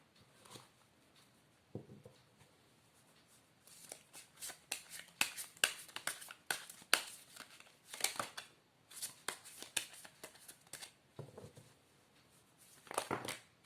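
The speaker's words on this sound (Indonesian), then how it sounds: "aku akan shuffle kartunya dulu" Tarot cards shuffled by hand in short bursts of crisp riffling and flicking, close and fairly quiet, with pauses between bursts.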